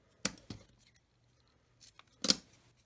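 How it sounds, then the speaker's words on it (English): Scissors trim a ribbon tail on a handmade garden-themed birthday card: two quick close snips, a pause, then a final louder snip. "I'm going to trim this tail."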